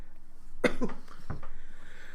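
A single sharp cough rings out close by, followed by a second, softer one a moment later, over faint background hum.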